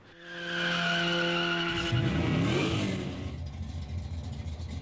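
Street racing cars skid with a long tire squeal and a revving engine that rises and then fades, loud and close, with no talk.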